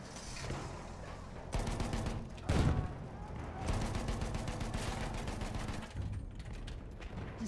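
Machine gun fire from an emplaced MG position in the video game Battlefield 1: loud, sustained rapid bursts at close range, with one heavier blast partway through and brief gaps between volleys.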